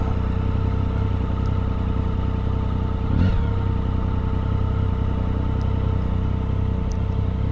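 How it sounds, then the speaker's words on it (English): A 2008 Triumph Speed Triple motorcycle is ridden through Tokyo streets toward Ginza. Its engine gives a loud, steady drone throughout, with one brief clatter partway through and no talking. "I'm on the Triumph Speed Triple. It's a 2008."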